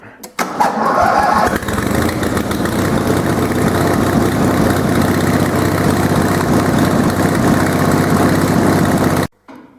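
A Countax lawn mower's small petrol engine runs steadily with the choke well out, a loud continuous rumbling drone that starts right away and holds for nearly ten seconds before cutting off.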